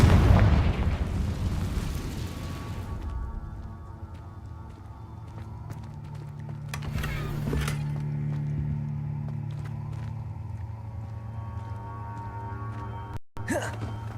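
Confringo fire spell blasts in the game Hogwarts Legacy, a loud booming burst that decays into a rumbling low drone, with a second sharp whooshing burst midway and brief clattering effects.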